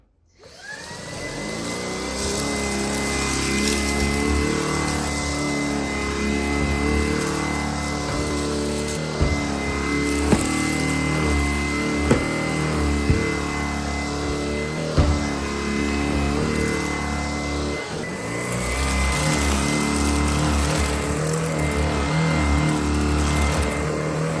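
Shark PowerPro IZ380UK cordless stick vacuum runs steadily and loudly throughout, a sustained motor whine with a few brief knocks partway as it cleans along an edge.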